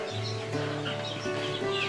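A fighter rooster named Panther clucks with short, close, repeated calls over a brief stretch.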